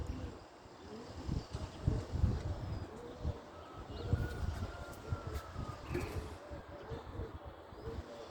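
Pigeons at a loft on a street give low, overlapping cooing that rumbles on throughout, with faint chirps and wing sounds mixed in. No one is speaking.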